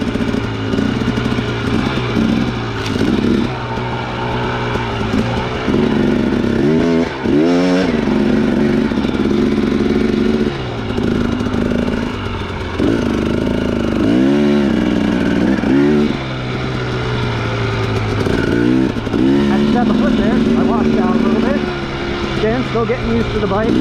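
A 2017 Husqvarna TX300 dirt bike being ridden, its two-stroke engine loud and close throughout, repeatedly revving and dropping back as the rider works the throttle over rough ground.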